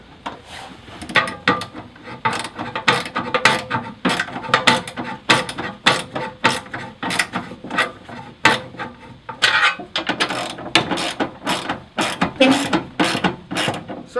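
A ratchet tightens self-tapping bolts on a car lockbox, close up, with repeated bursts of rapid clicking and rasping strokes in an uneven rhythm, and no one speaking.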